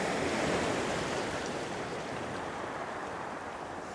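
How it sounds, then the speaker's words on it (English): Sea water swirls and washes around a coastal rock, a steady close rush of surf noise that holds at an even level for the whole stretch, with no voices. "the water's swirling around this rock"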